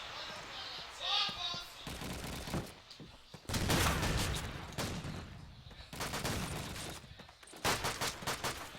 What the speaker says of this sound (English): Lots of grenades incoming from Armia